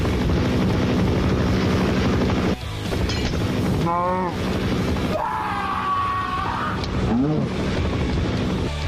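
A helicopter in a Minecraft game flies with a loud, continuous chopping roar that cuts out briefly, then returns amid whooping, wailing game sound effects.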